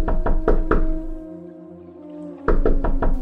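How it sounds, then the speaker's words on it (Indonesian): Someone knocks on a door in two quick bursts of four sharp, resonant raps, separated by a pause with a low droning hum underneath. "Suara ketukan pintu itu terdengar jelas oleh Bram."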